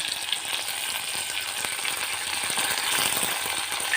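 Vegetables frying in hot oil until brown for sambar, a dense, even hiss of sizzling that holds steady throughout with small crackles and pops scattered through it.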